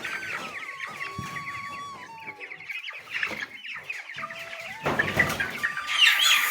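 Four-week-old broiler chickens cluck steadily and close by, a dense overlapping flock chorus with occasional louder squawks and no talk.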